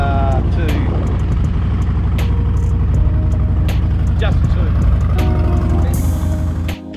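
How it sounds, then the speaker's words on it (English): A motorcycle engine starts up and runs steadily, a loud continuous rumble close by, with a person talking over it. "So let's start the bike up, huh?"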